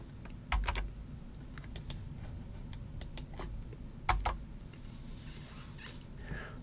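Python code being typed on a computer keyboard, a steady run of quiet, close key clicks with a few louder taps, over a low background hum.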